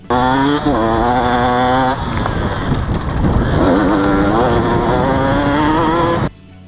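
A KTM 125 EXC enduro two-stroke motorcycle screams at full throttle nearby, revving up and holding a high, buzzing wail that rises and shifts as it pulls through a turn, then cuts off abruptly.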